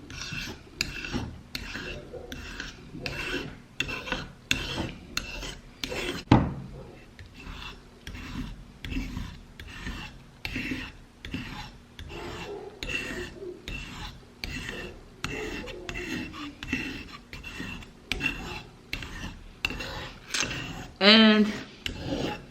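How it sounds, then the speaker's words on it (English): Rapid, rhythmic rasping strokes of a knife being lightly sharpened, close and steady for the whole stretch, with a person talking over the scraping. "We're only gonna sharpen it a little bit."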